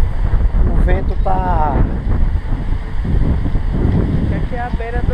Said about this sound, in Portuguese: o vento tá muito grande